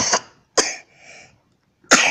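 Three sharp, close coughs with gaps between them, the last one a little longer, and a faint breathy sound in the middle.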